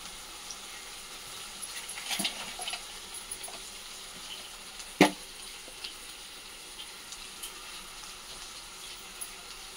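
Tomato rice with salt and ground garam masala frying and being stirred in a pan, a steady low sizzle with scattered scraping clicks and one sharp knock of the spoon near the middle, no voices.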